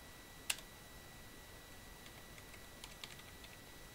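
Computer keyboard typing at a Linux terminal, a faint sparse run of key clicks: one sharp tap at the start, then a few soft taps spaced apart in a quiet room.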